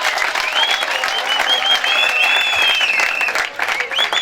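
A crowd claps steadily at a gathering, with whistling tones and cheering voices rising over the applause throughout.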